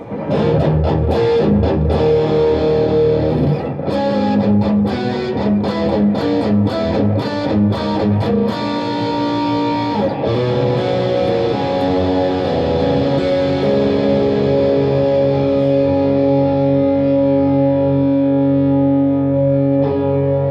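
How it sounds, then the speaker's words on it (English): A heavily distorted electric guitar, a Charvel Pro Mod So Cal Style 1 HH HT, plays loud chords and sustained notes through a boosted amp, first with choppy palm-muted strums, then long ringing, saturated tones. "let me accentuate the distortion a little bit on this amp."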